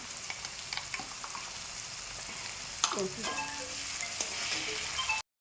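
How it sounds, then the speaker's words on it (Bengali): Ginger, garlic and onion paste fries in a pan on a gas stove, giving a continuous soft sizzle with occasional stirring scrapes. No one speaks. "আদা রসুনের পেস্ট সঙ্গে যে পেঁয়াজের পেস্ট গ্যাসটা একটু বাড়িয়ে দিই"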